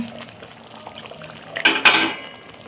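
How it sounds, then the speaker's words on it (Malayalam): A metal lid lifted off a simmering pot of paneer masala on the stove: a soft low background, then two short clattering scrapes of metal on metal, followed by a faint bubbling hiss. "അടപ്പെടുത്ത് നോക്കാം"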